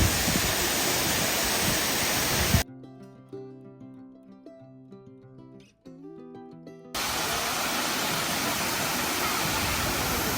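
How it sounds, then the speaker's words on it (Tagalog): Shifen Waterfall in Taiwan roars with a constant dense rush of falling water, interrupted midway by a few seconds of tonal music before the roar returns. "Ang ganda ng pagbagsak ng tubig."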